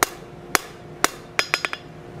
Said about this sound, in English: we're gonna hammer right in the center of the leaf, just two little flat areas